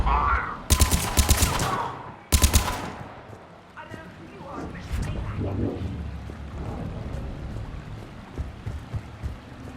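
Two sharp, loud bursts of gunfire in Mass Effect 3, followed by scattered fainter shots and battle noise as voices talk over the fight.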